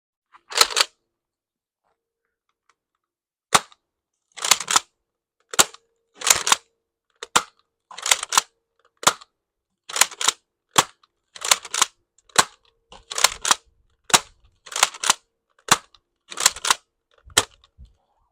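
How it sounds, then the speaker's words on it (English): An X-Shot Lock Blaster toy gun is fired outdoors, giving a series of sharp snapping pops with gaps between shots, some single and some in quick pairs, close and crisp against a near-silent background. "let's step outside and shoot some stuff"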